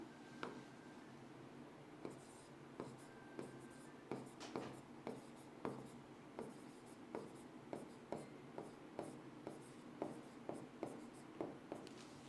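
A pen writes on paper during a physics lesson on electrostatics, making quiet, regular scratchy strokes and taps at a steady rhythm. The writing is close but soft and comes without talk.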